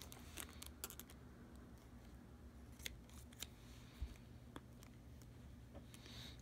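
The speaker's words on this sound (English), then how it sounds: "And trim off a little, make it look nicer." Scissors trim the ends of smart film wiring, a handful of faint, sharp snips spaced irregularly over a quiet background.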